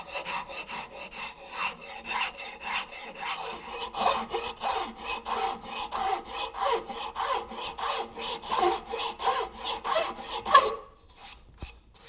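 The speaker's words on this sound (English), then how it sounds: "then I switch to a half-round file and do the same thing, working all of these surfaces before switching to sandpaper" A half-round file rasps across a wooden garden tower finial in steady back-and-forth strokes, roughly three per second, close and clear with no talk, ending with a brief pause.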